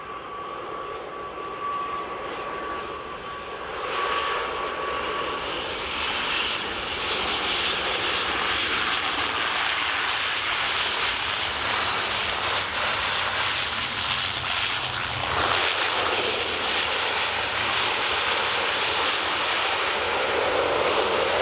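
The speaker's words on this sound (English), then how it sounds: "Another Aer Lingus coming in. Another ATR 72-600." An Aer Lingus ATR 72-600 turboprop lands on runway 24 at Edinburgh Airport on an evening, its engine roar swelling from moderate to a loud, sustained broadband rush that holds to the end, with no voices.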